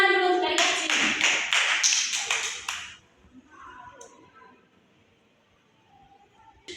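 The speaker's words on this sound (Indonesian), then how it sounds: "Tepuk tangan dulu untuk adik Acin." A small classroom group claps during a micro-teaching lesson, several loud, close rhythmic hand claps lasting under three seconds, then dropping to quiet room sounds with faint, scattered voices.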